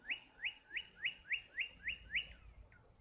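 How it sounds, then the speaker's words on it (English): A bird repeats a clear, bright two-part chirp outdoors about eight times at an even pace, moderately close, over quiet background ambience with no talk. "You hear that bird?"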